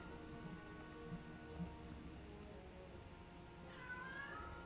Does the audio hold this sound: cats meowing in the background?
yes